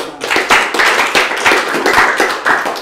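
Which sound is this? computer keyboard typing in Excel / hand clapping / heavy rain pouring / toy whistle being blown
hand clapping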